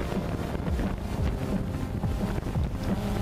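Strong wind buffeting a DJI Phantom 2 drone flying over an island, a loud, constant rumbling roar of gusts across the microphone with no speech.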